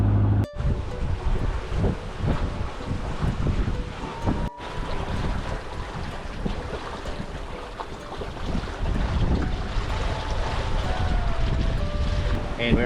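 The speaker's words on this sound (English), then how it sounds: "we're under sail now, making good progress" Sailboat under sail at sea in Fiji's Koro Sea, making about 15 knots with the wind just forward of the beam: steady rushing wind and water wash against the hull, loud and continuous, with occasional creaks and rigging noises.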